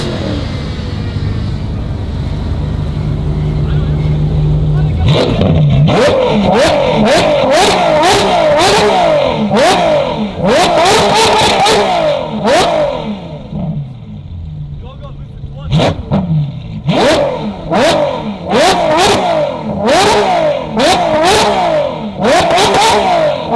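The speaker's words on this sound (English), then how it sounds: "Call it the Ferrari to rev some more." A Ferrari supercar at an airstrip drag race revs repeatedly in loud, sharp bursts that rise and fall quickly, blipping in quick clusters over a rumbling idle and background crowd chatter.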